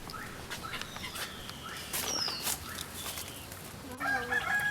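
Turkey gobbling outdoors, a faint distant burst of rapid calls amid other birdsong and steady background noise, with a louder closer call near the end.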